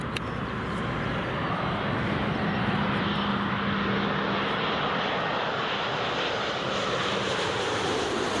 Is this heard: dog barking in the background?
no